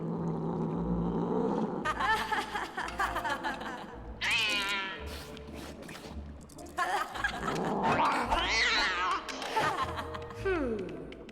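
In LEGO Harry Potter, Hermione transformed into a cat mews and yowls in several drawn-out cries, interspersed with cartoonish squeaks and laughter, close and clear, with game music underneath.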